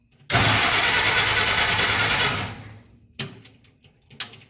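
A car engine cranks over in one long sustained burst for about two seconds, loud and close, then stops, followed by a few brief clunks and rattles; the car's alternator was recently repaired.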